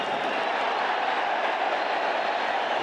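Steady roar of a football stadium crowd at Barcelona versus Juventus, a broad continuous wash of cheering and murmur with no distinct peaks.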